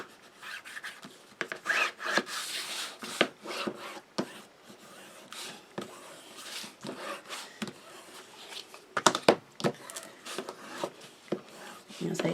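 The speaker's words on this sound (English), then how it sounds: "give it a good burnish along the sides, top." Craft paper is burnished along the sides and top of a square story frame album, with uneven rubbing and scraping strokes, close and fairly quiet, in irregular bursts.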